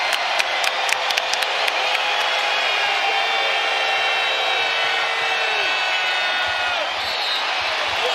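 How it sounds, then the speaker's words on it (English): Arena crowd at an NBA game between the Boston Celtics and Oklahoma City Thunder, roaring in a sustained, loud wash, with sharp sneaker squeaks and whistle-like tones cutting through early on. "that ignites this combustible crowd"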